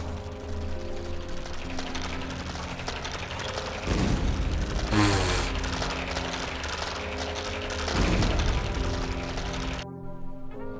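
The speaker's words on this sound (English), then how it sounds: "I love how they explode." Enemies explode in the game Ghost Song over a dense, steady droning backdrop, with a sharp bright burst in the middle and swelling rumbles on either side.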